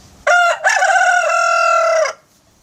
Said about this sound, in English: Roosters who crow a lot